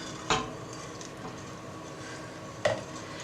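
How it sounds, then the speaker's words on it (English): Cream being stirred into a cheese-leek soup in a pot: two sharp clinks of a spoon against the pot rim, one near the start and one near the end, over a steady low kitchen hum. "Just with a little stirring, stir the entire cream in."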